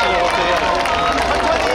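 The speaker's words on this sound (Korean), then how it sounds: "다시 한번 큰 박수 부탁드리겠습니다" A large audience gives a dense, continuous round of applause at a Korean mask dance (talchum) performance, loud and steady throughout with crowd noise underneath.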